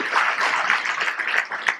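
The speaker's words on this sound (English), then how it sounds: "give yourself a round of applause" Audience applause in a room at a formal event, a dense burst of many hands clapping together, steady and fairly loud throughout, with no voices over it.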